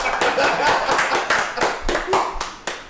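A small group claps for Brian in a room, a brisk run of hand claps with a ragged rhythm that continues for a few seconds before tapering off.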